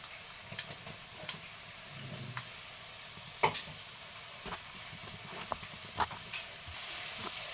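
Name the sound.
crushed garlic and ginger sizzling as added to pan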